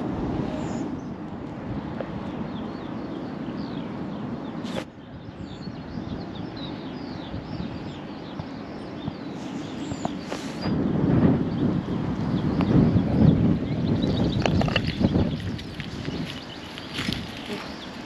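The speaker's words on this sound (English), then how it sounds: "So it's a little bit windy here today, so I hope you can hear me all right." Wind blowing across open fields and heathland around Burgh Heath, a steady broadband rush with gusts that swell louder near the end, buffeting the microphone outdoors, with no talking.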